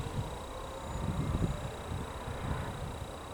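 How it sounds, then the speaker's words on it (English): Outdoor wind buffeting a camera microphone, a continuous low rumbling roar that swells and eases slightly, heard alone without talk. "Wind is shaking the camera."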